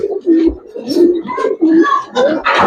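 Pigeons of a racing and fancy breed coo close by in repeated deep, throaty rolling calls, one after another with short pauses, loud and clear, with a faint bit of other noise near the end.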